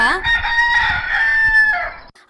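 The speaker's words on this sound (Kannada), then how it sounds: "ಮೊದ್ಲು ಆ ಹಕ್ಕಿ, ಆಮೇಲೆ ಆ ಹುಂಜ" A rooster crows once in a long, loud, close cock-a-doodle-doo lasting about two seconds, with nothing else competing, from a Kannada children's cartoon.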